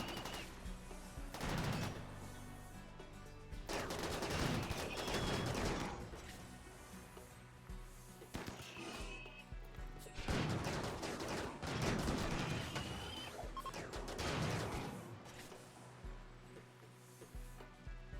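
Video-game gunfire in clustered volleys: rapid rattling bursts arrive in several separate waves with quieter gaps between, some shots loud and close, others more distant.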